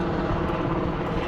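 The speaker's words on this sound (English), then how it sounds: "helicopter is here" A helicopter arrives at a power-line work site, its rotor and engine a loud, steady roar that fills the whole short stretch without a break.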